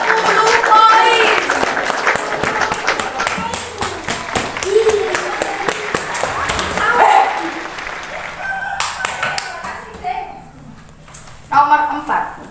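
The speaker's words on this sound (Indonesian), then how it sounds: "Tepuk tangan." A small group claps briskly in rapid, continuous patter during a quiz game at an arisan gathering. Lively voices talk over the applause, which fades toward the end.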